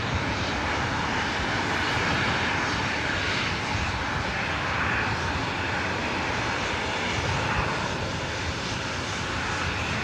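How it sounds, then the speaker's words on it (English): A Delta Connection SkyWest Embraer E175 jet takes off at LAX, its engines a loud, steady roar that holds strong and unbroken throughout, with no talk over it. "Time to get those awesome takeoff sounds going here today."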